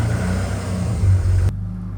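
A drift car's engine runs with a steady low rumble that swells briefly as it pulls off the drive after sitting for a couple of weeks, then drops back to an even idle-like drone.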